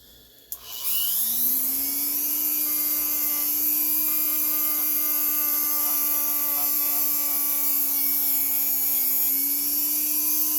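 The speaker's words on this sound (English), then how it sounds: "And if this don't work, then we'll use that wire wheel" An electric tool spins up a wire wheel to clean a Kawasaki KX85 motorcycle power valve, giving a loud, steady, high whine that holds evenly throughout with no talk.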